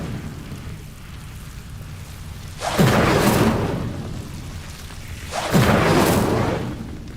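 Two fiery Incendio spell blasts in the Hogwarts Legacy video game, each a loud whooshing burst that swells and roars for about a second before fading, spaced a few seconds apart over a low ambient hum.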